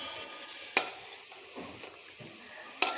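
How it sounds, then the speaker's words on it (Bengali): Bora fritters frying in a wok give off a soft, steady sizzle, broken by a few sharp metallic clinks of a utensil against the pan, close and quiet. "আমি বড়াটা ভাজা শুরু করে দিয়েছি"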